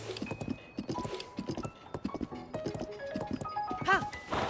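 Horse hooves clip-clopping in the video game Zelda: Tears of the Kingdom, a steady close rhythm of hoofbeats mixed with game music tones and a brief whinny-like sound near the end.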